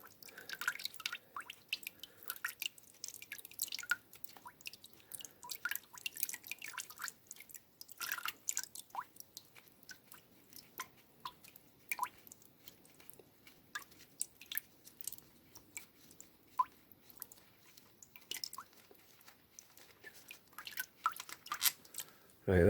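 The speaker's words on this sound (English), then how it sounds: "the last few drops are coming out now. That's what's gone into the bucket." Last drops of coolant draining from a Honda CBR1000RR Fireblade dripping into a bucket, faint irregular drips and small splashes spread over a quiet background.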